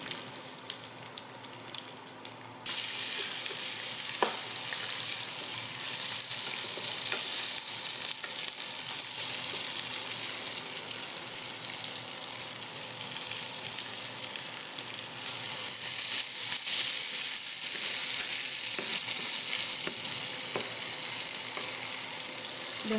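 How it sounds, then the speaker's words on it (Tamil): Onions with capsicum frying in a pan for mango rice, a dense continuous sizzle that switches on after a quieter start and holds steady for about twenty seconds, with occasional faint stirring clinks and no talking. "வெங்காயம் நல்லா வதங்கட்டும்."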